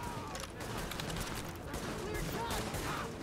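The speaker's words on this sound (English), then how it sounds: "Let's go at him with the shotgun this time." Shotgun fire in The Division, a tactical shooter game, heard as loud dense gunfire blasts mixed into continuous combat noise, with speech faintly present.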